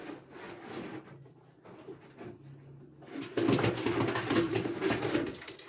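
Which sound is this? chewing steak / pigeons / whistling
pigeons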